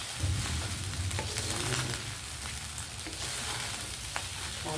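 Leftover rice reheating in a pan, a steady close sizzle with scraping stirs throughout and no talk.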